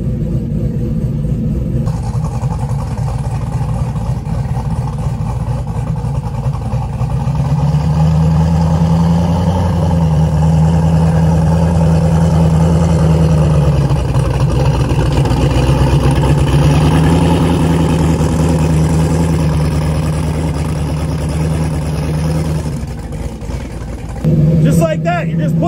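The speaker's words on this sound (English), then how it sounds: "Pushing snow, you just want to get it out of your driving area." A turbocharged LS-powered car rated at 1150 hp pushes snow with a plow blade, its engine holding a steady low rumble that swells as it works forward, with a voice talking over it.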